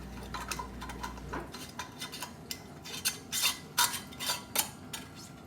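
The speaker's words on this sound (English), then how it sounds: "Then we're gonna wipe our rim. And add our lid and our ring." A metal lid and screw ring set onto a canning jar of fruit juice, heard as a string of close, sharp metallic clinks and taps in an uneven rhythm, with no talking.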